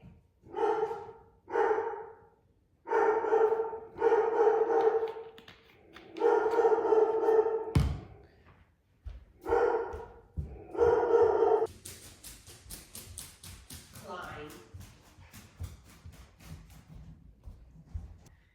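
A dog barks repeatedly in short bursts and clusters, loud and close, followed by panting and rustling with no talking.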